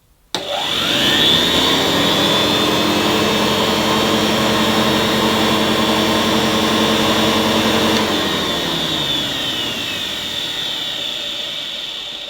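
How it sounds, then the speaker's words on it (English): A vintage Hoover 725 vacuum cleaner with a damaged fan starts with a sudden click and spins up to a loud, steady whine that holds, easing slightly in pitch after several seconds. "Despite the fan being damaged, that motor sounded pretty smooth."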